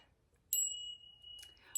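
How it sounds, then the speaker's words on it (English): A small brass bell rings once with a bright, sustained high tone that lingers about a second, followed by a softer second shake and a brief third strike, close and fairly quiet. "Look at this cute little brass bell."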